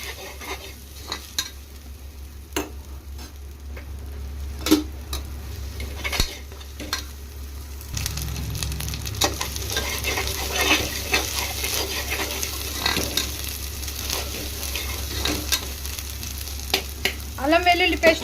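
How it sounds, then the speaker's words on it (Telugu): Ginger garlic paste frying with onions in a pan for egg biryani, giving a steady sizzle under repeated close scraping and stirring strokes of a spoon, with occasional utensil clinks. "అల్లం వెల్లుల్లి పేస్ట్ కూడా ఫ్రై అయిపోయింది."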